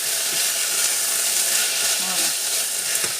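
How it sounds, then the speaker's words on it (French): Crème fraîche poured into a hot pan of leeks, giving a steady bright sizzle and hiss that holds close and even throughout, with faint kitchen clinks. "Maintenant, je vais mettre la crème fraîche."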